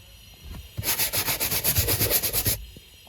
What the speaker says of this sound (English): Let's try it with our scrub.